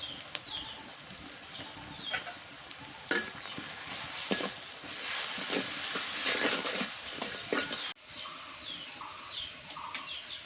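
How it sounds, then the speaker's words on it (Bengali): Garlic and mustard paste with turmeric sautéing in hot oil for a village-style hilsa fish curry, giving a steady loud sizzle with scraping stirs, and birds chirping faintly in the background. "কষার করে নিই"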